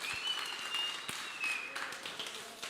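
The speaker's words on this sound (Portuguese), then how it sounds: "Oh, aplaude de verdade" Congregation applauding during a church service, a steady dense wash of clapping with a faint whistle tone drifting over it and the preacher's voice not heard.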